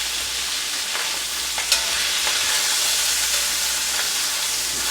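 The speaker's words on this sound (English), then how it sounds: "this is popping and chopping and making all kind of wonderful," Spanish-style cauliflower rice frying in a pan, a dense continuous sizzle with scattered sharp pops and crackles, close and steady throughout.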